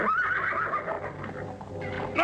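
A horse whinnies loudly in a Cantinflas Mexican film, its rising, wavering neigh filling most of the moment before a second call starts at the end.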